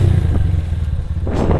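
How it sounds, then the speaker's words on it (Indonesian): A motorcycle engine, sputtering after being rained on the day before, runs with a rough, uneven low rumble and a brief rise in revs near the end, loud and close. "Waduh, ini motor saya rodok berebet lur. Kayaknya karena habis kehujanan kemarin."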